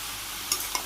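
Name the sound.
stirring and sautéing spices with vegetables in a pan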